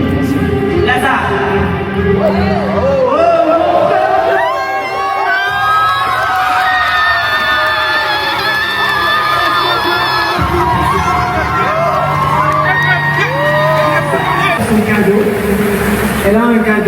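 A crowd at a youth event in Kinshasa shouting and cheering together, a loud, sustained collective roar of voices rising and falling, with some singing-like shouts and a voice leading over it.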